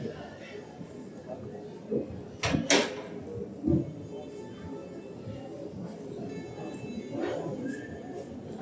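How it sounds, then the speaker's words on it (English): A heavy door at an old Soviet railway station in St Petersburg gives a couple of dull knocks and thuds, mid-distance, under steady station hubbub and faint voices. "This door is super heavy actually."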